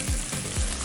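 Steaks just pulled from a broiler give a steady, close sizzle with soft crackling pops, continuous over a brief moment with no voices.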